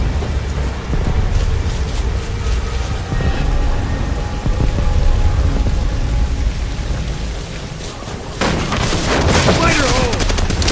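Heavy machine gun fire from a fortified bunker in Call of Duty: World at War, a dense continuous battlefield din of overlapping gunfire and rumbling explosions, loud and close, with a sharper burst of crackling fire near the end.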